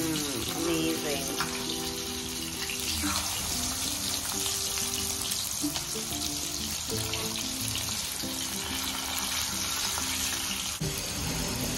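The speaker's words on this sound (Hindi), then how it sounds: "This is getting fried." Food fries in mustard oil with a steady, close sizzle that runs unbroken throughout, along with some faint background tones.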